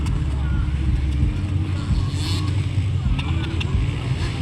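Motocross motorcycles, including a Honda, race in a ladies' open class on a muddy track, making a steady, loud engine drone while a commentator talks excitedly over it.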